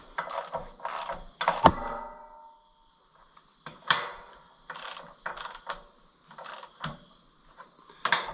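Ratchet wrench snugging cylinder head bolts partway down on an Oliver 66 tractor engine, heard as close bursts of rapid clicking separated by short pauses, with no talk.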